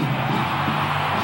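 A huge Mexican stadium crowd roars at a Red Bull X-Fighters freestyle motocross final, a dense, loud, continuous wall of cheering and shouting with no breaks.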